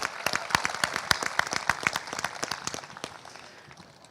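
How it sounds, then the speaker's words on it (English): At a high school graduation ceremony, a crowd applauds the singers after the Star-Spangled Banner. The claps are crisp and individually distinct, land in a lively irregular patter, and thin out gradually toward the end. "Can we have another round of applause?"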